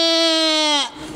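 A man imitates a goat's bleat during an animal-sound contest, giving one loud, wavering, nasal bleat that trails off after about a second.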